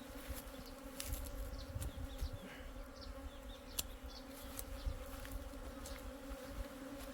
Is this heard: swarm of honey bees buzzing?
yes